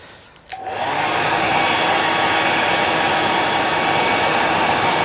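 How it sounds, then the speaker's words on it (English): A hairdryer switches on with a click and blows steadily at a freshly tied classic Dallas salmon fly, a loud, even whooshing hum close by that carries on alone. "Now we can encourage it back with a hairdryer, just to show you what it looks like."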